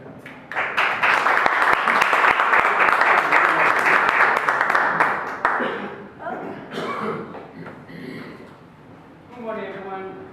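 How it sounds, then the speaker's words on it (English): An audience applauds a presenter being introduced at a food experiment society event, a burst of dense clapping for about five seconds that fades into scattered claps, coughs and murmuring voices. "please give a warm round of applause for our next presenter, our food experiment society"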